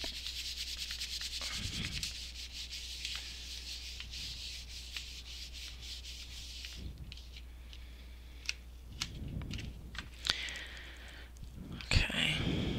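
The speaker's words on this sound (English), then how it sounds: "Let me put this on some card. And give it a burnish." Polymer clay being burnished onto card, a steady soft rubbing and scraping that runs continuously, close and fairly quiet, with a few sharper taps and crinkles toward the end.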